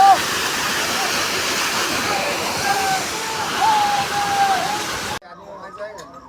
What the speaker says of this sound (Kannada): ನೋಡಿ ಎಷ್ಟು ಮೇಲಿಂದ ನೀರು ರಭಸವಾಗಿ ಬೀಳ್ತಾ ಇದೆ.